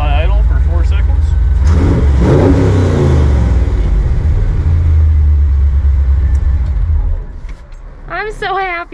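A 1955 Chevrolet Nomad gasser fires up hot and rumbles loudly at a rough, throbby idle before cutting off, with people talking over and after it.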